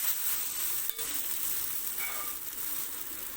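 Wheat adai dosa batter sizzles in an oiled pan over low heat, a steady close frying hiss with a single sharp tap and a few light scrapes.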